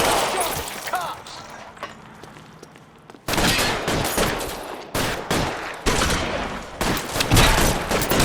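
Gunfire in a video game shootout in L.A. Noire: a quieter stretch of scattered shots, then loud sustained volleys and rapid bursts, dense and close, continuing to the end.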